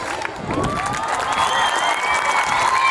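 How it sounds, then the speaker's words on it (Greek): At a gymnastics festival in Lixouri, Kefalonia, an audience applauds in a dense sustained wash of clapping and cheering, with a few whistles rising over the crowd noise. "Νομίζω ότι αξίζουν ένα πολύ ζεστό χειροκρότημα."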